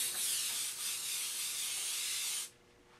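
An airbrush sprays paint for a woodgrain finish with the trigger held wide open, giving a loud, steady hiss that runs for over two seconds and then cuts off sharply.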